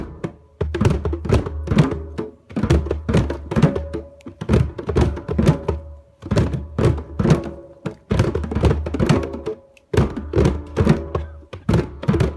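Deep bass tones struck at the center of a hand drum beat out a stomp-stomp-clap pattern, repeating in loud, close bursts with short pauses between phrases.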